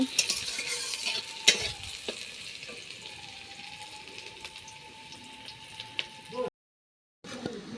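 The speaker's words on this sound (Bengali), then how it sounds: "তার জন্যে পেঁয়াজগুলো প্রথমে ভাজি নিয়ে দিচ্ছ" Onions fry in a pan for a potato and eggplant vegetable curry, giving a steady soft sizzle with occasional stirring clinks and a brief silent gap near the end.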